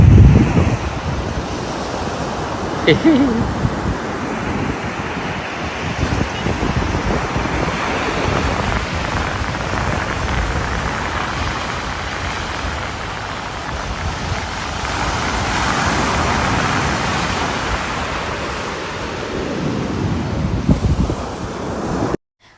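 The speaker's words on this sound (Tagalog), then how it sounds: "Ang ganda-ganda nga ng beach sa Canggu, Indonesia. Malakas din ang alon." Strong ocean surf rolls onto the beach at Canggu, Indonesia, a steady broadband wash of breaking waves mixed with wind buffeting the microphone, loud and continuous for the whole stretch with no talking.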